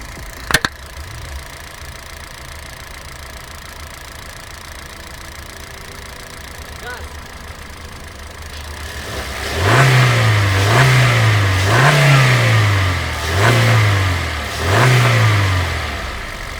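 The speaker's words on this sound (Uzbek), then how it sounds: "Hozir endi gaz berib ko'raman." A car engine, in a Chevrolet Tracker 2 or a Kia Sonet, idles quietly, then revs up in five rhythmic bursts, each rising and falling loudly and close by.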